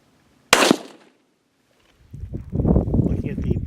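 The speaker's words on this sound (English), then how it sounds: "Getting ready to shoot the 17 Winchester Super Mag 25 grain bullet at a distance of 50 yards." A single sharp crack from a 17 Winchester Super Mag rifle firing a 25 grain bullet at a 50 yard target outdoors, loud and close, then a brief lull before a low rumbling, shuffling noise rises.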